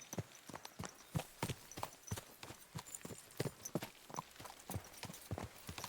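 A horse trots along in Kingdom Come Deliverance 2, its hooves clip-clopping in a steady, even rhythm. The sound is fairly quiet, with no voices over it.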